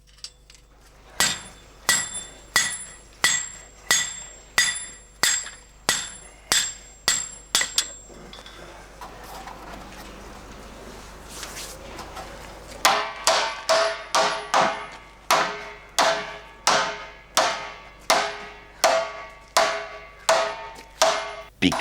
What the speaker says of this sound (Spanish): Picar los aros consiste en apretarlos a golpe de martillo con el repretador